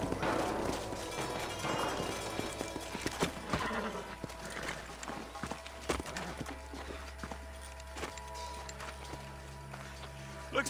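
Horses in the video game Red Dead Redemption neigh and their hooves clip-clop over a continuous low game ambience, with scattered knocks and thuds throughout.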